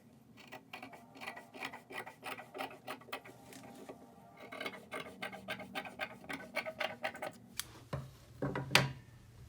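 Scissors cut through fabric for a face mask in a quick run of close, rasping snips and rubbing strokes, quiet overall and with no talking.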